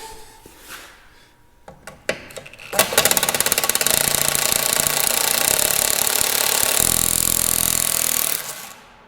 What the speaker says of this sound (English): All that impacting to remove a nut off the smallest bolt in the world.